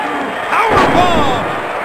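A suplex lands in the PS1 wrestling game WCW Nitro with a single heavy slam and a thud near the middle, loud and close, under an echoing arena crowd and game effects.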